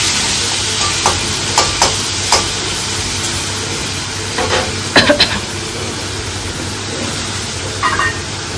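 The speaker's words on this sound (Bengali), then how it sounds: "পেঁয়াজ রসুনটা অর্ধেক ভাজা ভাজা হয়ে গেছে" Onion and garlic frying in a pan give a steady, close sizzle with a few scraping stirs of a spatula breaking through at intervals.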